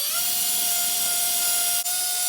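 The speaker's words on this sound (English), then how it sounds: "It's gonna ask us to drill 3/16 hole right here" A power drill bores a 3/16-inch hole in a wall for mounting an over-the-range microwave, holding a steady high whine at close range, with a brief dip near the end.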